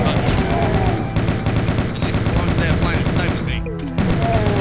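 A chaingun in the Doom WAD Eviternity fires in dense, rapid bursts. The loud, continuous rattling stutters through short pauses, with game sound effects mixed in.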